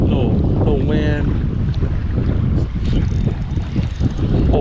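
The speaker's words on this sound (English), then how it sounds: "Little wind." Wind buffets the microphone at a lakeside bank during fishing, a loud, continuous rumbling gust that never lets up, with faint voice-like sounds mixed in.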